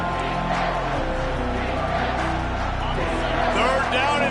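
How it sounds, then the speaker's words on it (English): Dense stadium crowd roar fills a college football video game on a third-down play, a constant loud wash of cheering and noise with a commentator voice faintly under it. "this crowd is tearing the lid off this place"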